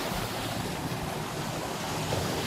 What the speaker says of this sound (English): the tide's just coming in quietly, not rushing in